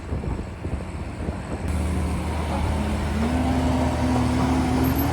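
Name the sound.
tractor with trailer of muck driving off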